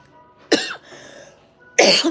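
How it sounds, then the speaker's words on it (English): Two harsh coughs, one early and one at the end, close and loud, with a quiet throaty pause between them. "Now that I'm going live, I decide to have a cough."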